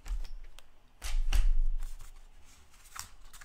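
A paper trimmer slices and creases card stock in a few sharp rustling strokes, close and fairly quiet, with papery scraping between cuts.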